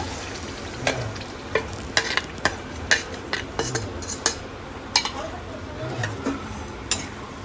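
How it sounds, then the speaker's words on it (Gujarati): Gravy with capsicum for restaurant-style paneer tikka masala sizzles in a pan while a spoon scrapes and clinks against it in a steady rhythm of taps. A voice talks quietly underneath. "તો આપણે જે ગ્રેવી બનાવી હતી એ નાખી દઈશું."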